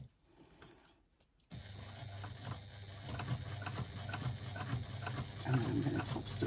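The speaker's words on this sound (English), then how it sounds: "I'm going to do one back stitch." A sewing machine starts up after a brief quiet moment and runs steadily while sewing a back stitch, a close, even mechanical whirring with a rhythmic ticking pulse and no talking.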